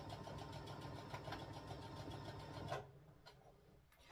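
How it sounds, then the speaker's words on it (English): A sewing machine stitches around a quilted Christmas stocking with a fast, steady mechanical chatter that runs for nearly three seconds and then stops, leaving faint handling noise. "I'm just going to sew all the way around."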